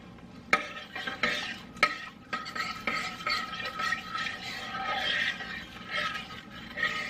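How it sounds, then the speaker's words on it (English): Red pepper flakes stirred into Korean beef ingredients for a slow cooker, a spoon scraping and clinking against the vessel in repeated close strokes with no talk. "And then I'm going to stir that up."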